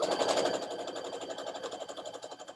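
A sewing machine stitching a quilt seam, running steadily and close with a rapid, regular mechanical chatter that slows slightly toward the end.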